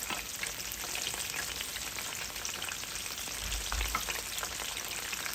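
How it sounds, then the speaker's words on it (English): Spring rolls deep-fry in hot oil with a dense, constant crackling hiss, steady and close throughout, with a slight low thump partway through and no voices. "So let that fry."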